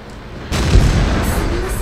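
Tank cannon firing in the game World of Tanks: a single heavy boom hits about halfway through and is followed by a sustained rumbling tail. Faint background sound precedes the shot.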